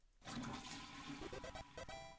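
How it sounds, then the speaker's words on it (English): Toilet flush from the video game Deltarune, a single close whoosh of rushing water lasting about two seconds with a few gurgling tonal steps as it drains, no speech. "Flush the toilet."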